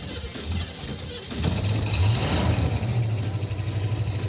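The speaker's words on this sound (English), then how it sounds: "Sounds like a small block Ford." A 1969 Ford Mustang with a small-block 302 V8 runs close by, first idling with a low burbling pulse, then picking up into a steady, slightly louder rumble that rises and settles.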